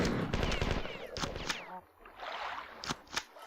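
Pistol gunfire in the shooter game Marathon 2: Durandal during an ambush by two troopers, a rapid burst of close shots at first, then a few sharper isolated cracks spaced apart.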